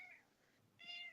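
A male house cat, high on catnip mist, meows twice up close, one short call and then a longer, brighter one after a brief pause.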